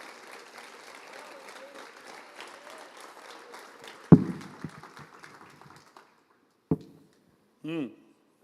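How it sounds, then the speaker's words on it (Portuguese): A church congregation applauding during a sermon on the Lord's Prayer, heard as a soft spread of claps under a preacher's voice, followed by a few sharp isolated knocks near the end. "Quem pode aplaudir a Jesus, aplauda a Jesus."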